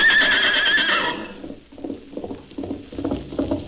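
A voice imitates a horse's neigh, a loud whinnying burst lasting about a second and a half, followed by a quieter rhythmic clip-clop patter.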